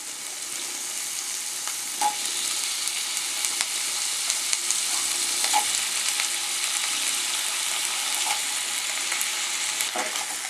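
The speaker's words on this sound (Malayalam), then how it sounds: "ഈ ഉരുളക്കിഴങ്ങ് എണ്ണയിലൊന്നും നന്നായിട്ട് വഴന്ന് വരണം" Large potato pieces sauté in oil for an egg kuruma, a constant even sizzle heard close up, broken every couple of seconds by soft knocks of a spoon against the pan, with no talking.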